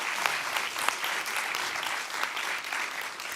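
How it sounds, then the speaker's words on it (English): Audience applauding at the close of a nutrition conference launch event, a steady dense clapping that holds evenly throughout with a few sharper individual claps standing out. "Let's just give them a final round of applause."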